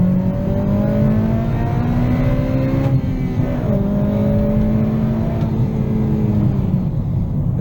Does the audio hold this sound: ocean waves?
no